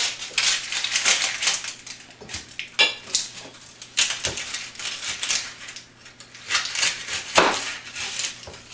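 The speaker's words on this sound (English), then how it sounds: "I also have 4 large to medium onions, and I'm going to roughly chop these as well" Four large to medium onions being roughly chopped with a knife, a close series of irregular crisp chopping knocks against a board, with short pauses between bursts.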